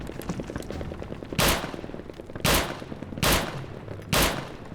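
Four heavy gunshots from a weapon in the shooter game RealRTCW, spaced about a second apart and loud and close, over a constant low game background.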